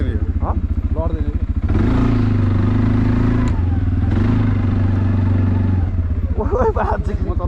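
An ATV on an off-road ride runs close by, its engine thumping steadily with a low rhythmic putter, while people talk loudly over it.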